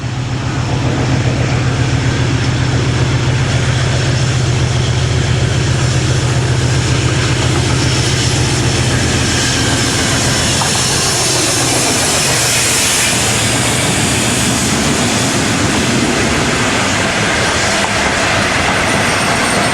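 Class 56 diesel locomotive 56091 in EWS livery hauling a freight train from Belmont Yard to Hull, a loud continuous engine roar with deep throbbing hum and rolling wheel noise as it passes close.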